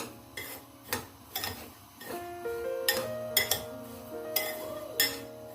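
Roasted semolina halwa mixture with a pinch of salt stirred in a pan, giving repeated clinks and scrapes of a utensil against the pot at an uneven rhythm, close and moderately loud, with no talking.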